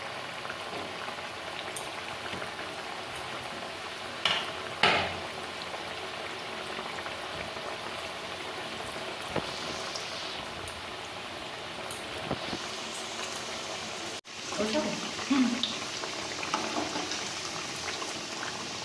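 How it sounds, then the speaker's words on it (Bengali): Mung pithe dumplings fry in white oil in a wok, giving a steady, even bubbling and crackle throughout with a few faint clinks and handling sounds near the start and end. No one speaks. "এবার আমি পিঠেগুলো ছেড়ে দিচ্ছি একে একে"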